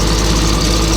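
A Komatsu PC200-8 excavator engine with an overheating problem runs at a steady idle, a loud, close, continuous low rumble with even vibration throughout.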